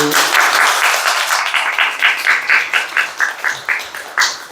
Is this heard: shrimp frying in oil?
no